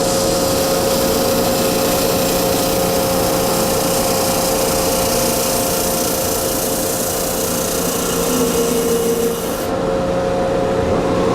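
A disc sander runs steadily with a constant whirring drone and a scraping rub, loud and close, before cutting off near the end.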